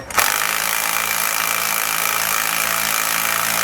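Power tool tightening helper spring bracket bolts on a 2004 Workhorse motorhome, a loud continuous mechanical whir and rattle starting abruptly and holding steady for a few seconds before cutting off.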